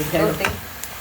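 Chili powder dropped into hot oil for a tempering of tomato chutney, giving a short burst of sizzling and frying with a brief stir, close and fairly loud.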